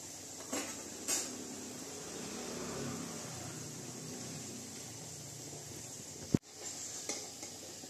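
Potato peel bhaji fry gently in oil over a low flame, a soft steady sizzle with a few stirring clicks and one sharp clatter of a utensil near the end.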